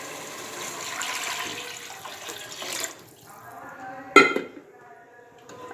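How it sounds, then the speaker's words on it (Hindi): Water pours steadily into a cooking pot for a few seconds, then stops, followed by a sharp metallic clank of the pot and quieter trickling, while making pulao. "अब मैं इसमें पानी डालूंगी।"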